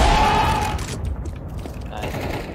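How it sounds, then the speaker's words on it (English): A grenade is thrown and explodes in a shooter video game: a loud, sharp blast at the outset, then a rumbling decay with scattered mechanical clatter. "Throwing a grenade."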